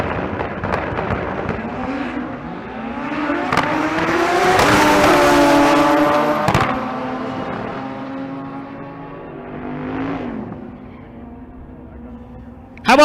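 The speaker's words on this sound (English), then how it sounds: "A couple of 8-second bikes coming at you." Pair of naturally aspirated eight-second drag racing motorcycles launching down the strip at Bandimere, a loud rising engine howl with gear changes and swells as they pull away, no talk.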